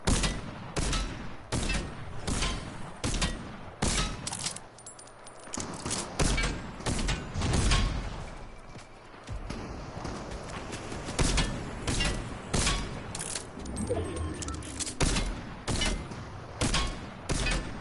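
Rapid bursts of gunfire from the video game Fortnite, loud and dense, with repeated shots and volleys firing across the whole stretch, some heavier thuds between them, and no talking.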